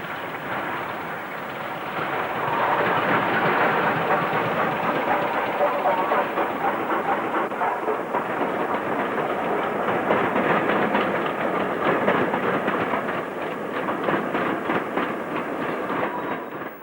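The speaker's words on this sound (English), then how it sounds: "number 2219 runs past ready to pilot out a Bath-Bournemouth train" Steam locomotive 2219 rolls past on the Somerset & Dorset railway, a loud, steady rumble with rapid clickety-clack from the wheels and a broad hiss that builds after a second and holds at close range throughout.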